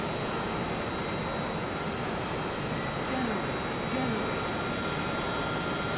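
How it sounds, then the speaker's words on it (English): Jet aircraft engine in a flight simulator game hums as a steady, loud, continuous broadband roar with a faint whine, unchanging throughout with no clear spool-up. "and engine start."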